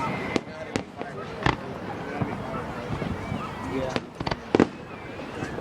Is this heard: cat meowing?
no